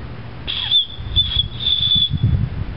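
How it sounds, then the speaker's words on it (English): A thin, high whistle built into a fire steel striker is blown in three short blasts, near and fairly loud, over a low rumbling background. "it does have a little whistle"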